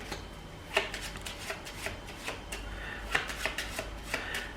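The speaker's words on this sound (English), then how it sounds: "we're going to give these a quick shuffle" Someone gives a small deck of playing cards a quick, quiet shuffle. There are soft riffles and light taps at irregular intervals, close up.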